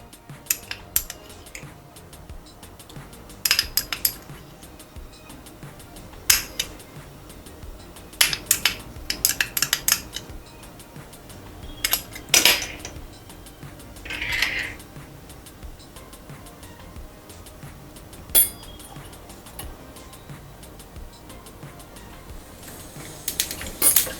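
Sporadic metallic clinks and scrapes of kitchen utensils while tempering in ghee, spaced irregularly over a quiet background, with one short sizzling hiss midway.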